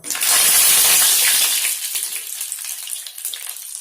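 Dried red chillies drop into hot oil already holding chana dal while tempering for banana flower rice, a loud bright sizzle bursting at first and then settling into a steady, slightly crackling fry.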